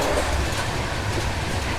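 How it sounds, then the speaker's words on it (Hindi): An old-style Rajdhani Express coach runs at 130 km/h and shakes hard, giving a steady, loud rumble with low rattling and rail noise throughout. "देखो ये 130 ट्रेन चल रही है और कोच पूरा हिल रहा है"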